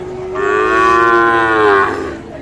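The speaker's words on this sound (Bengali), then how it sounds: "এই যে শাহিওয়াল সার বাছুরটা" A Sahiwal bull calf at a busy cattle market gives one long, loud moo close by, lasting about two seconds, with faint crowd noise behind it.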